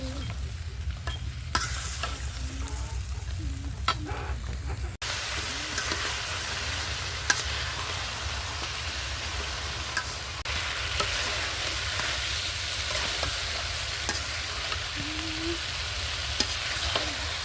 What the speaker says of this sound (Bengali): এই পর্যায়ে আমি মাংসটা দিয়ে ভালো করে নেড়েচেড়ে কষিয়ে নেব।